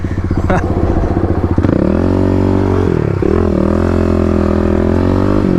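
Kawasaki KLX250 dirt bike engine revving hard while sliding, starting with a rapid throbbing pulse then settling into a loud, sustained high drone with a brief dip and recovery, close and continuous.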